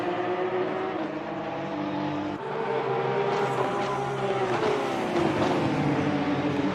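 Porsche GT3 Cup race cars on the Barcelona circuit in a racing video game, engines droning steadily at high revs with gear shifts and rising and falling pitch as the pack runs close together, with no talk.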